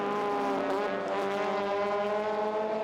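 A Honda Integra and a Honda Civic race in a Super TT endurance race at Sydney Motorsport Park, engines wailing at high revs with a tonal drone that shifts pitch as they pass, fairly distant.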